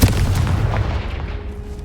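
Confringo spell explosion in the video game Hogwarts Legacy, a loud booming blast right at the start with a deep rumbling tail that slowly dies away, no voices.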